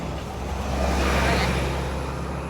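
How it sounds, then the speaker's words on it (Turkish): Double-decker buses roll through Singapore traffic, a steady, loud engine drone and road roar that swells slightly in the middle as a vehicle passes close by. "Buradaki otobüsler hep böyle yani çoğunluğu iki katlı."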